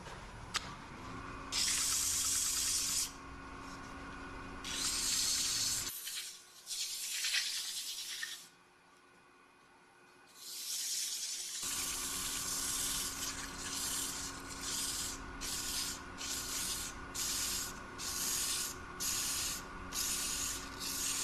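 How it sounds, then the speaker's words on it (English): Repeated bursts of broadband scratchy rubbing, like sandpaper against spinning wood, in rhythmic passes with a brief quieter gap partway through, from sanding a woodturned castle on a lathe. "that's just about all the sanding I ever do on these"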